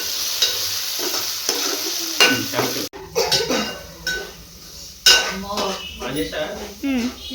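A spoon scrapes and clanks against a pot while ginger garlic paste is stirred into sizzling chicken curry, close and loud, with irregular knocks and a faint background murmur.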